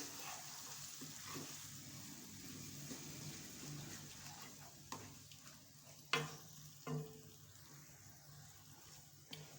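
Chopped tomatoes stirred into aloo baingan, a potato and eggplant curry, in a pan, giving a soft steady sizzle with scraping spoon strokes and a couple of sharper clinks near the end.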